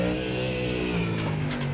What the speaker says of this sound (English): You hear the revs rise there, Cade, as the rears break traction.